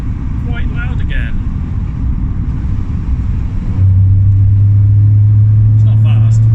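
A Renault Twingo fitted with Clio 172 suspension drives along with a loud, rumbling engine and road roar throughout, rising to a stronger, steady droning tone partway through. Brief voice sounds appear early and near the end.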